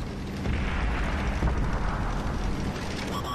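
Heavy tank cannon fire and battle rumble from a tank video game, a dense continuous low boom that fills the whole moment with no talk over it.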